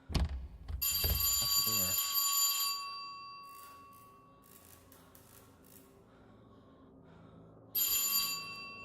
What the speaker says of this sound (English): Uh-oh, the phone's ringing.